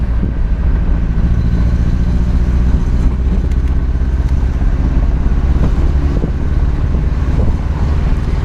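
A 1985 Alfa Romeo Spider Graduate drives down a residential block, its engine giving a steady low rumble beneath constant wind buffeting on the microphone, close and loud, with no talking.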